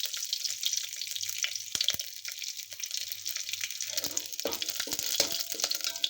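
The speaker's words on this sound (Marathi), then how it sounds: "लसूण चांगला लाल भाजून घेऊन घ्यायचा आहे, तळून घ्यायचा आहे." Garlic fries in a pan while a tomato soup is made, with a thin sizzle and sharp crackles and spatters that grow busier toward the end, heard close with no talk.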